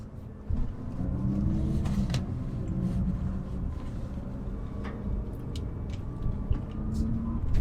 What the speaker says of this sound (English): So it's somewhat rough. Not like punishing, but it certainly isn't smooth. It's also a little bit loud.